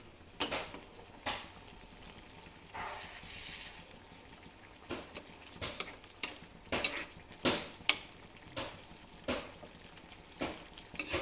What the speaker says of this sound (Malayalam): തേങ്ങാപ്പാൽ ഒഴിച്ചതിന് ശേഷം നമുക്കൊന്ന് ചെറുതായിട്ടൊന്ന് മിക്സ് ചെയ്ത് കൊടുക്കാം